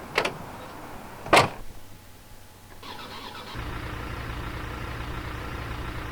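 Inside the Farming Simulator 19 video game, a Land Rover's door clunks shut twice in quick succession, then the engine cranks and settles into a low, steady idle.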